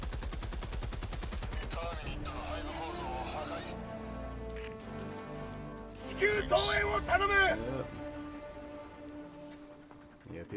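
Rapid machine gun fire rattles loudly for the opening two seconds in the video game Helldivers 2, followed by scattered game effects and layered voices talking over the action.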